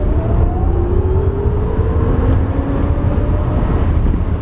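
A Tesla Model S 100D accelerates from 0 to 60 mph without launch control, giving a steady electric whine that rises in pitch over road and tire rumble inside the car.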